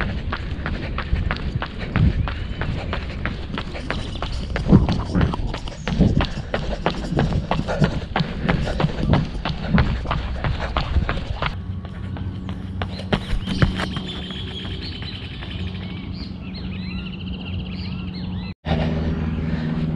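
Rapid running footsteps pound steadily during interval sprints on a track, close and rhythmic over a faint background, then slow to a quieter, more spaced pace as the last sprint ends.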